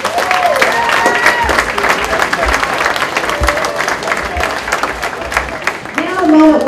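An audience at a senior breakfast applauds the event organizers, loud dense clapping filling the room throughout with crowd murmur and a voice speaking over it.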